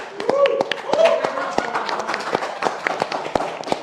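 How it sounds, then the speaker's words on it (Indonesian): Scattered audience clapping of sharp, uneven claps in a talk-show setting, with people talking over it. "Kita kasih tepuk tangan sekali lagi dong buat Vin."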